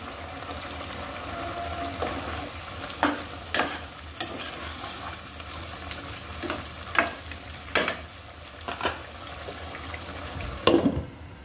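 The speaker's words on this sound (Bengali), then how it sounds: "চিকেনটা ভালো করে আমি কষিয়ে নিচ্ছি।" Chicken pieces with salt sizzle and fry in a pan for a Bengali hill-style bamboo shoot dish, with a steady hiss broken by repeated sharp scraping strokes of a spoon stirring at irregular intervals, close and fairly loud, no talking.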